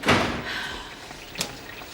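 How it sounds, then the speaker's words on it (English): Door on a 1985 Australian soap set opens with a loud thump near the start, followed by a quieter clack a second later, alone without talk. "Door's open."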